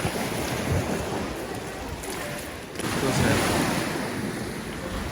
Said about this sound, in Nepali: छाल